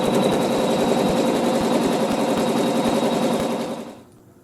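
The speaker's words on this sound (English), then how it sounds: "now it's going to do that placement and tack down and stitch all at one time" A sewing machine stitches a quilt block's placement and tack-down lines, with a fast, steady, close mechanical chatter that winds down and stops near the end.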